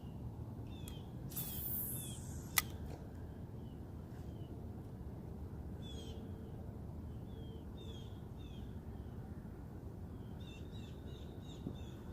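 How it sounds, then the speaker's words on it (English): Birds chirping in short bursts at a lake while someone kayak fishes, the calls moderately close and scattered over a steady low rumble of water and wind, with no talking. "guys hear those birds?"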